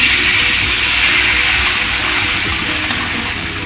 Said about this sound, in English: I'll add in water.